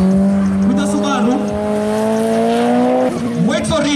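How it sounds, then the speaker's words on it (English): A Subaru race car drives on the track at a Nyahururu racing event, its engine holding a loud, steady rising drone close by, briefly dipping near the end, with tire noise and crowd voices underneath. "First time on the track with the Subaru."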